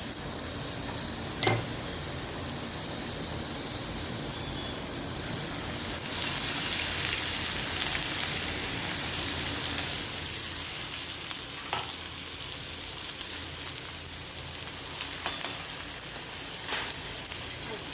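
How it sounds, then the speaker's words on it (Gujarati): Mustard seeds and asafoetida sizzle in hot oil, a continuous loud, steady hiss throughout with a few faint pops and clicks scattered over it. "રાઈ નાખીને પછી હિંગ નાખવું"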